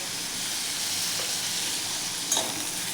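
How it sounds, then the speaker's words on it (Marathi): Asafoetida hits hot oil while tomato rice is being made, producing a continuous close hiss and sizzle with a brief clatter near the end. "हिंग थोडासा टाकून घेऊयात आपण."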